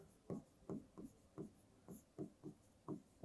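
Pen or marker writing on a board during a Class 10 maths lesson on quadratic equations, heard as about nine short scratchy strokes in an irregular rhythm, close and fairly quiet, with no talking.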